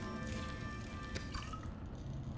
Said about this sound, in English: Make some filtered water.